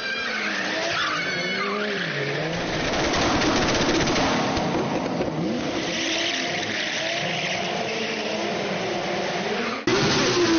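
Drift car engines roar and rev loudly at an event in Ankara while tires squeal and skid continuously, the pitch rising and falling with each slide.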